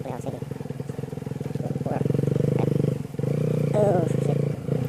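An off-road motorcycle such as a Kawasaki KLX rides through a puddle with a loud, close, steady engine drone that swells and revs, with a brief splashing clatter and a voice talking over it.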